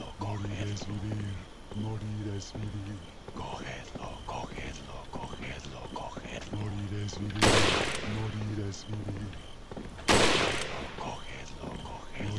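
Two sharp, loud gunshots crack out in Resident Evil 4, well spaced apart, over droning game music and quiet spoken commentary.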